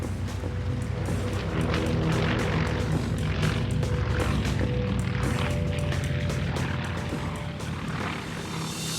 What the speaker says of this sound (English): these Cold War-era Grummins remain unchallenged in their new role as Firecat retardant bombers